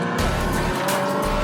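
Race cars in the Porsche Esports Carrera Cup video game roar past in quick succession with tire squeal, engines loud and close throughout the short burst.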